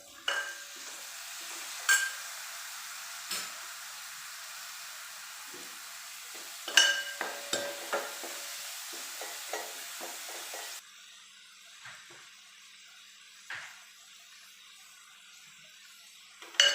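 Onions and tomatoes sautéing in a pan for brinjal curry give a steady soft sizzle, punctuated by occasional sharp clinks and scrapes of stirring; the frying quiets noticeably partway through.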